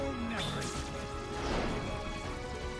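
A hero smashes an enemy's head in Kingdom Hearts 2.5, a crashing hit that lands among steady game music and effects, with a whoosh-like swell partway through.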